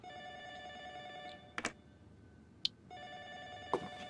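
Telephone ringing in the Ju-On: The Grudge PC game, two long electronic rings separated by a pause, moderately loud and heard alone with a few sharp clicks in between.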